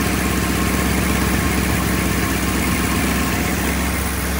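A 1956 Ford Thunderbird engine with a rebuilt OEM fuel pump, idling steadily with a loud, even, continuous drone up close.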